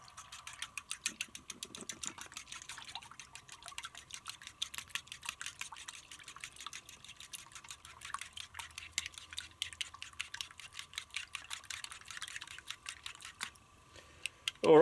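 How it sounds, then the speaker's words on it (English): Fork whisking raw eggs with a pinch of salt in a bowl for scrambled eggs on toast: rapid, steady clicking taps of metal against the bowl run for most of the stretch, close and even, with no talking over it. "grab our fork and we'll just whisk that up."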